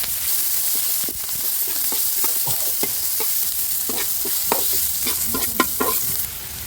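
Onions and green chilies fry in hot oil for a fish curry, with a loud continuous sizzle and frequent crackles and pops close by, plus occasional stirring scrapes.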